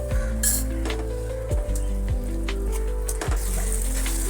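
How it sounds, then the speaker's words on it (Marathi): A spoon stirs half a bowl of whisked curd into sizzling prawn biryani masala in a pan, with repeated metallic clinks and scrapes against the pan over a steady frying hiss. "आता इथे मी अर्धी वाटी फेटलेलं दही टाकत आहे ते सर्व आता एकजीव करूया"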